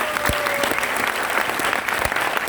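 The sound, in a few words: audience applause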